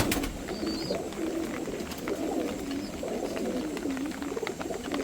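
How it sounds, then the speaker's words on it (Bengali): A pair of pigeons coo without pause in the rain, their soft, wavering calls looping over a steady background hiss. "এখানে আমার একজোড়া সবজি কবুতর"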